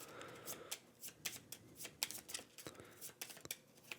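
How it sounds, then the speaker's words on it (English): A discard pile of game cards from the Dune: Imperium - Uprising board game is shuffled by hand in a rapid series of crisp riffling bursts, close and fairly loud with no talk. "So we'll take my discard pile and shuffle it up."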